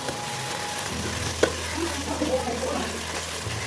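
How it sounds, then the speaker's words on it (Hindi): Chicken with tomatoes and chili sizzles steadily while being sautéed in a pan, with one sharp utensil clink partway through; the frying hiss stays continuous and close. "अब मैं इसमें सूरज मिर्च 1 चम्मच शामिल करूँगा और इसे अच्छी तरह से मैं भूनूंगा"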